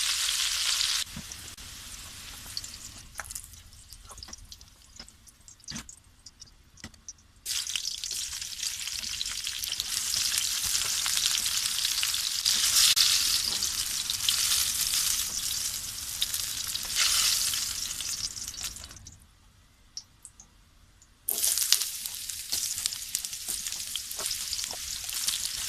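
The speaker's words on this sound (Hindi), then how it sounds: "तमाम सब्ज़ी फ्राई हो चुकी हैं।" Mixed vegetables frying in butter and oil, a loud continuous sizzle that rises and dips twice as the pan is worked, with scattered spatula scrapes and no voices.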